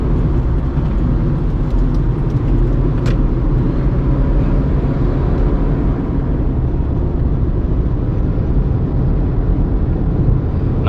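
Volkswagen Polo car driving at speed, a steady loud broadband road and engine roar with wind noise that holds throughout, with no voices.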